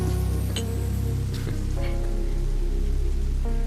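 Steady rain falling near a bus stop, a dense even hiss throughout with scattered drop impacts and no voices.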